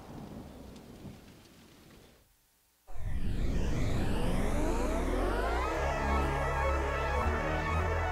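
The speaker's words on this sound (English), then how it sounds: "Ooh, a storm." Thunderstorm effect within a music track: after a brief near-silent gap, a loud crack of thunder gives way to steady heavy rain and a sweeping, swirling wash that fills the mix for several seconds.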